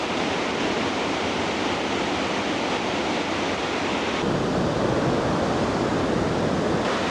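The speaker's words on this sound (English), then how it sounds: "There's another small waterfall across." Continuous broadband roar of a small rainforest waterfall near Cairns, Australia, rushing steady and loud throughout, heard from nearby with some wind.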